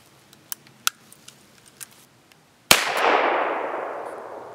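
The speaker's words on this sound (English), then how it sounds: "So let's just fire a few rounds through this to see how it shoots." A Nagant revolver fitted with an AAC TiRant 9 suppressor fires a single close, sharp report followed by a long fading hiss, after several small mechanical clicks and taps.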